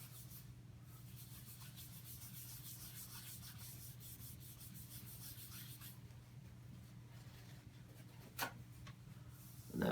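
Dry wax rubbed by hand onto a soapstone surface, a steady soft scrubbing and rasping texture that continues without pause, faint and close, with a couple of brief louder scrapes near the end.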